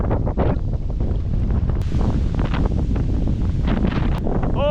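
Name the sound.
strong wind blowing over a pond while kayak fishing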